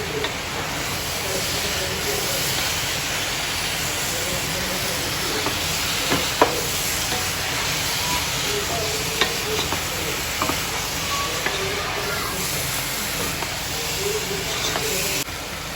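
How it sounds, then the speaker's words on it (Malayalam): Pre-fried chicken is stirred into masala in a frying pan, a steady close sizzle and hiss with scraping stirs and occasional clinks running throughout, no talk. "ഇത് നന്നായിട്ട് മിക്സ് ചെയ്ത് കൊടുക്കാം."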